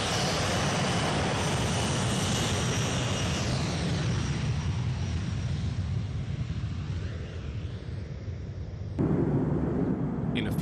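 A military jet taking off from an airfield in Lancashire, bound for Saudi Arabia: a loud, sustained broadband engine roar that fills the whole clip, fades slightly toward the end, then swells again.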